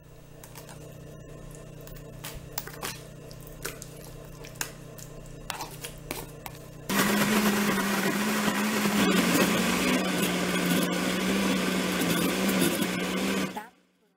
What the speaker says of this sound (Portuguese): E essa que ficou na peneira, você pode bater no liquidificador.